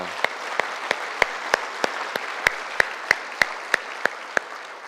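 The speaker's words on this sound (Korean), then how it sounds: "다시 한번 하나님께 우리 감사의 박수를 올려드리도록 하겠습니다" Steady, evenly spaced claps ring out in a church during a Sunday worship service, a congregation clapping in thanks, about a dozen sharp beats in a regular rhythm with no talk over them.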